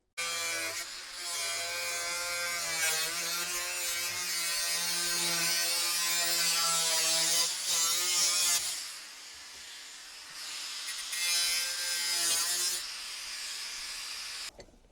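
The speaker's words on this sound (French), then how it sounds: "si on découpe pas le toit, ça va pas le faire" A power tool cuts through the sheet-metal roof of a Renault Twingo in a workshop, giving a loud, sustained whining buzz with a shifting pitch. It eases off, comes back briefly, then stops.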